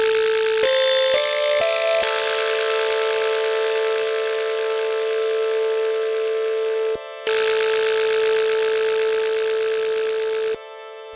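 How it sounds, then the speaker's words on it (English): A Kodamo Mask1 synth tone whose filter is swept at audio rate by a looping envelope, heard as a loud, steady, buzzy, alarm-like drone after a few quick stepped pitch changes, cutting out briefly near the middle and again at the end. "So that sound is the audio rate modulation of the filter."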